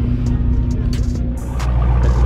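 A Chevrolet Trailblazer SS rolls in at a car cruise event, its engine a steady low rumble close by, with no talking.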